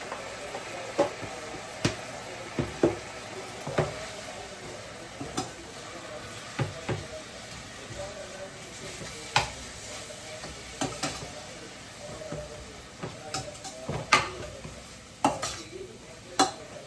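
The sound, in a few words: frying mustard seeds and curry leaves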